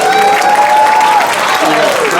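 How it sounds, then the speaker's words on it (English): Audience clapping at an awards celebration, a steady dense wash of applause lasting throughout, loud and close, with a voice carrying faintly over it. "quick round of applause"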